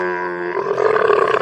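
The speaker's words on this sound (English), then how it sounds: "Camel," A camel gives a single deep, rough groaning roar up close, starting tonal and breaking into a raspy, rumbling grunt.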